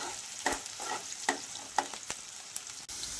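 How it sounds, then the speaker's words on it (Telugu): Green chillies and onion fry in hot oil with tempering seeds, giving a steady close sizzle punctuated by regular scrapes and clicks of stirring, with no voices. "పోపు గింజలు కూడా కొంచెం వేగాక మనం కట్ చేసి పెట్టుకున్న పచ్చిమిర్చి ఆనియన్ వేసుకుందాం"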